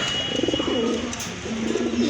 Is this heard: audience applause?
no